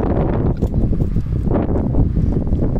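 Steady wind buffeting the microphone, a continuous low roar with gusty surges and faint rustling throughout.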